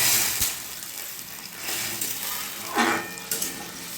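Water poured into a pan of fried potatoes for Bengali aloo chorchori makes a loud, steady sizzle with bursts of hissing steam, close and alone.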